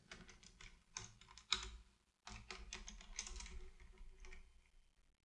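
Computer keyboard typing while writing JavaScript code, rapid clustered keystrokes in two bursts separated by a short pause, close and fairly quiet with no speech.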